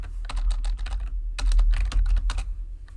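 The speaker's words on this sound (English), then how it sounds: "I'm trying to type too fast" Fast typing on a computer keyboard while coding a Discord bot, with dense bursts of rapid clacking keystrokes broken by short pauses, loud and close.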